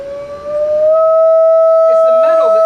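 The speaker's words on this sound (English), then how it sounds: "what you're hearing is you're actually hearing the metal itself." A steady, pure ringing tone from a vibrating metal plate on a speaker driver with its cone removed, for Chladni patterns, sustained and fairly loud, with faint rustling noise near the end.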